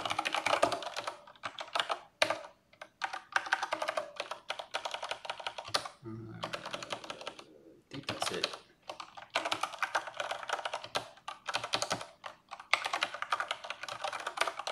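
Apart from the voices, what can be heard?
typing on an ergonomic computer keyboard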